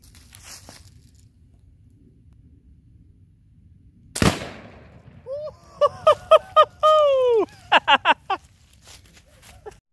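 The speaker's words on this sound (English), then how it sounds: "And we detonated with this pellet gun because that face is so much thinner" A pellet gun shot detonates a Firebird exploding target in one sharp, loud bang outdoors, followed moments later by a burst of chirping, whistling birdsong-like calls and rapid clicks.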